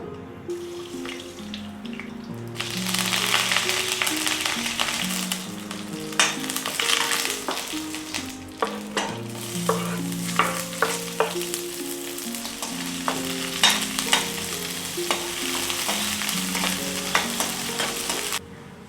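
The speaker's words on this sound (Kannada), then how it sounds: "ನಾನಿಲ್ಲಿ ಅದು ಬೆಂದ ನಂತರ ಇಲ್ಲಿ ನಾನು ಒಂದು ಪಾತ್ರೆಯಲ್ಲಿ ಒಗ್ಗರಣೆ ಇಡ್ತಾ ಇದ್ದೀನಿ" Tempering spices for a Kannada home-style taro (kesu) dish crackle and sizzle in a pan, a dense steady hiss with frequent sharp pops and clatters of stirring throughout, close and loud with no talking.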